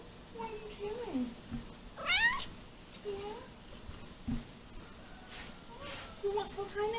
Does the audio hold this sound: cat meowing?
yes